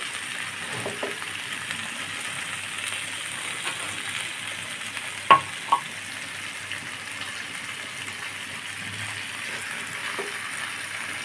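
Drumsticks frying in mustard paste with green chillies in a covered pan, a soft, steady low sizzle with a couple of brief clinks partway through, fairly quiet and with no voices.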